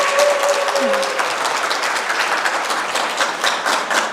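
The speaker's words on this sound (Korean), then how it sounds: "박수로 좀 맞이해 주시면" An audience at a hospital heart-failure health lecture applauds with steady, dense clapping that carries on throughout, with a brief faint tone in the background near the start.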